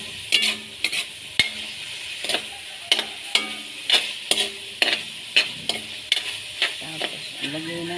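Chicken cooking in a pan for adobong sitaw, with a utensil stirring and scraping in a regular rhythm of sharp clinks over a light sizzle, close and clear.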